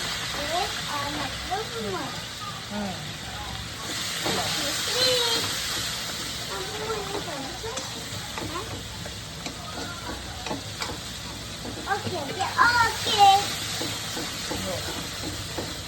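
Oil sizzling in a home kitchen pan during dinner cooking, a soft steady frying hiss running under frequent conversational speech, with a louder burst of crackle toward the end.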